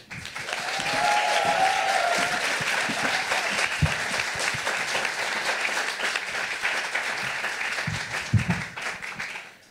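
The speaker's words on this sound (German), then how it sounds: "Bitte begrüßt mit einem riesen Applaus Mo auf der Bühne" Loud, sustained applause from a science slam audience fills the hall, dense clapping holding steady for several seconds before thinning slightly near the end.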